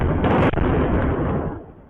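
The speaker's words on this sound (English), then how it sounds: "Israel launched a barrage of airstrikes on Tehran" Airstrike explosions over Tehran in news footage: a loud, dense, booming roar of blasts with a sharp crack near the middle, sustained and then fading slightly toward the end, no talk over it.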